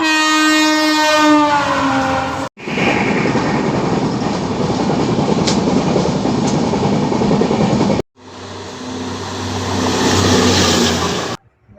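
The Panchganga Express, train 16595 from KSR Bengaluru to Karwar, sounds a loud horn blast. Heavy rumbling and clatter follow as it runs, then a second, deeper horn sounds near the end over the running noise.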